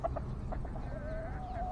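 Chickens from a mixed flock at a city farm cluck close by in short repeated notes, then one gives a longer rising drawn-out call.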